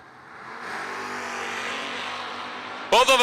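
Drag race cars, an X Stock Eliminator Buick Apollo and a third-gen Camaro, roar off the line in a loud sustained engine blast that builds then holds, with a voice breaking in at the very end.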